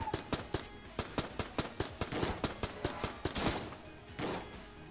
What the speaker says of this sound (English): Betting that's a buck up there shooting at me.